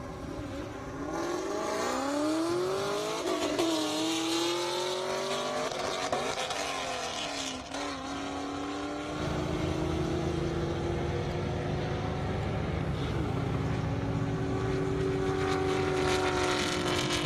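A Camaro SS and a Corvette Z06 race down an airstrip at a drag event, engines roaring continuously with rising, shifting pitch sweeps as they accelerate, loud and sustained throughout.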